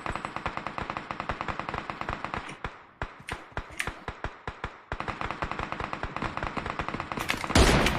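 Automatic gunfire in a PUBG battle royale match comes in rapid bursts of sharp shots, with short pauses between volleys and a dense final burst, close and loud.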